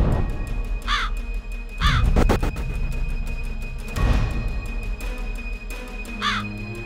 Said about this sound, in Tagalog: May paniniwalang nagdadala ng kamalasan ang mga uwak.